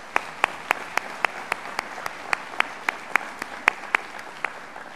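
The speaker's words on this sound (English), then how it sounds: "let's give us all a round of applause" At a college opening session, applause comes through as a string of distinct, evenly spaced claps, about three or four per second, crisp and fairly near rather than a dense crowd roar.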